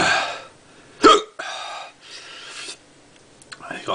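Hiccups from a person after eating a Red Douglah chili pod: one sharp, loud hiccup stands out near the start, set among breathy throat sounds and a few softer catches, close to the microphone.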